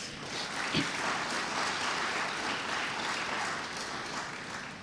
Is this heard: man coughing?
no